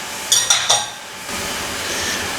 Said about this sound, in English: we're just going to stir them in and let them cook until they're pink and cook through